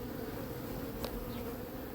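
Honeybees buzz steadily inside a swarm trap, a dense continuous hum heard close up with a brief louder passing buzz midway.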